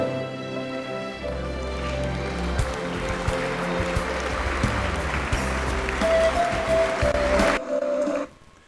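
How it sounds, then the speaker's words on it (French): A crowd-applause sound effect placed on a track in a video editor gives dense, continuous clapping over sustained musical tones, then cuts off abruptly near the end. "j'ai mes applaudissements qui sont là."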